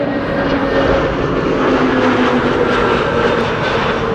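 A fixed-wing airliner arriving on runway 06, the Kaagbaan, at Amsterdam Schiphol on a windy day, its engines producing a loud, steady roar with a faint tonal whine, heard alone and close throughout.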